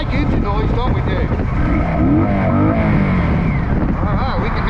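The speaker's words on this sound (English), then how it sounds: "Kind of makes it more virtual if you can actually hear the motorcycle, right?" A motorcycle cruises along a road in Ban Chang under overcast skies after overnight rain. Its loud, steady engine drone runs throughout while someone talks over it.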